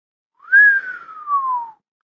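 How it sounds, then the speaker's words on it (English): A man whistles a single sliding note, rising briefly and then gliding slowly downward for about a second, clear and close in an otherwise quiet room. "Whistled Lord Robert."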